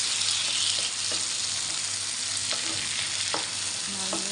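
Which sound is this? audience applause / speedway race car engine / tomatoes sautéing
tomatoes sautéing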